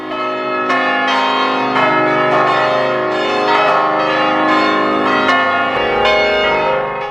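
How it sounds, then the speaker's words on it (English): Basilica bells ring at Mission San Juan Capistrano: loud, resonant strikes follow one another in an even rhythm, each tone overlapping the lingering hum of the last, with no voices. "if you're lucky enough to be there when the basilica bells start to ring"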